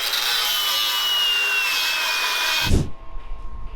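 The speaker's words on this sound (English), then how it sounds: "Now I can get a grinder in there and finish cutting that bracket because it's still welded on the backside" An angle grinder cuts through a steel bracket still welded to a bread van. It gives a loud, steady, high-pitched grinding whine with a faint shifting tone, then abruptly stops and leaves a low thump and rumble.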